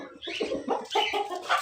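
A rooster about a year and a half old clucks in a quick series of close, throaty calls over about a second and a half, with no talk over it.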